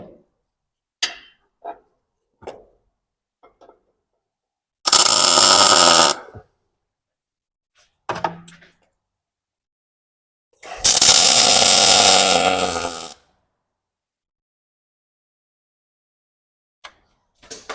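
Tack welds on an upper link bracket for a 2005-and-later Toyota Tacoma trailing arm 3-link rear kit: two separate loud, crackling bursts, one short and one about two seconds long, with faint clicks and knocks in the quiet between.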